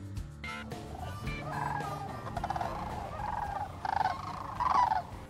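Sandhill cranes call in flight over trees, several rattling, trumpeting cries rising and falling in bursts, fairly near and growing louder toward the end, with no talk.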